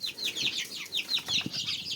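Rapid high-pitched cheeping from a group of chicks close by, overlapping chirps with no talking.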